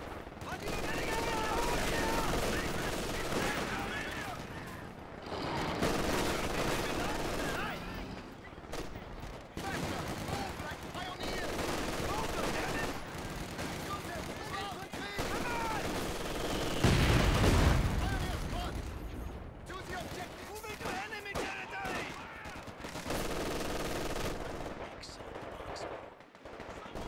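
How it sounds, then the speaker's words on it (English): Gunfire in a World War II strategy video game battle, sustained rattling machine-gun bursts and rifle shots with booming explosions, loud and continuous, with in-game soldier voices shouting over the fighting. "Enemies firing on us!"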